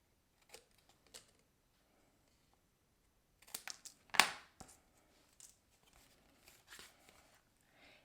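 Scissors snip off a paper card flap in a quiet room, a few faint scattered clicks followed by a brief, sharper cluster of crisp cuts, then sparse light taps.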